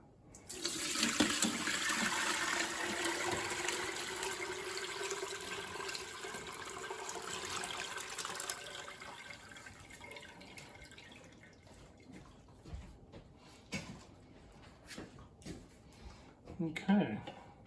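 Turkey broth pours from a pot through a colander, a steady splashing rush that thins to drips and trickles, followed by scattered clinks and bumps of cookware, with some talk at the end.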